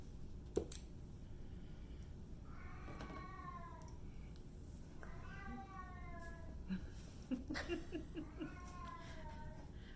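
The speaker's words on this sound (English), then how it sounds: "just a cat meowing in the back" A pet cat meows repeatedly in the background, in drawn-out rising cries that come in several bursts over a steady low room hum.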